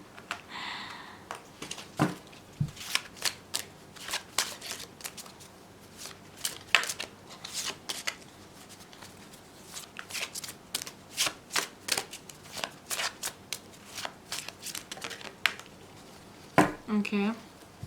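Tarot cards are shuffled repeatedly up close, with quick riffling bursts and soft taps in an irregular rhythm; a voice speaks briefly near the end.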